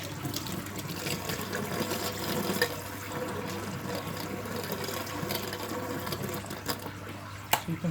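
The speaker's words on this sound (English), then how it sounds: "We're going to do the washing up together." Dishes are washed up in a sink with a gloved hand, water swishing and splashing with occasional clinks of crockery, close and fairly soft over a steady background hum.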